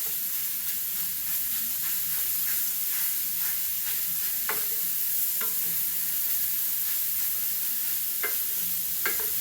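Pork sugo cooks in a pan with a steady, close sizzle while a utensil stirs and breaks up the meat, adding scattered scraping clicks throughout.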